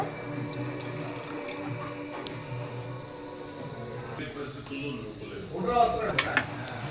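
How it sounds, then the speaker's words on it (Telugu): Water runs into a cooking pot for biryani, a steady splashing stream that builds near the end with a few metallic clinks, while a voice talks faintly underneath. "ఇప్పుడు మనం వాటర్ పోసాము దీని నిండా"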